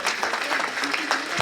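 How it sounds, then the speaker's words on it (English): An audience at a local election candidates' meeting claps briefly in a dense patter of hands, with talk mixed in over the applause. "Round of applause for this lady"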